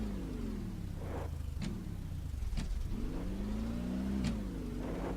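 An offroad truck engine revs hard through repeated rising and falling surges, loud and close, with a steady rumbling drone underneath and no talking.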